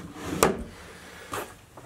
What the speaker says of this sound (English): These drawers, they open, and then they just keep opening and opening.